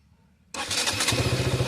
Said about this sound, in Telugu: ఇలా సింగిల్ టచ్లో స్టార్ట్ అయిపోవాల్సి ఉంటుంది.